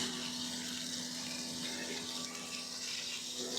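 Water rushes steadily through an Ava Flow mop head as it is flushed clean during car washing, a continuous hiss close by with no talking.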